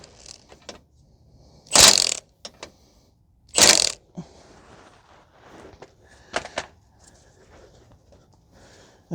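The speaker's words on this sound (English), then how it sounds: "Just tighten it up a little bit, just to get the ball joint seated." A ratchet tightens a lower ball joint nut on a 2011 Subaru Outback 2.5, giving two loud, short clicking bursts close by, separated by a pause, followed by faint scattered clicks and handling noise.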